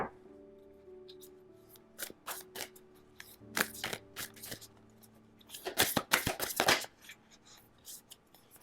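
Tarot and oracle cards shuffled by hand, soft flicks and slides building into a dense burst of riffling near the end, close and fairly quiet over faint sustained musical tones.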